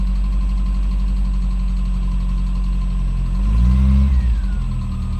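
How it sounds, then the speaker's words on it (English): A 1.3-litre Mk2 Ford Escort engine running close by, a steady low idle with a brief rev rising and settling back near the end. "Running engine."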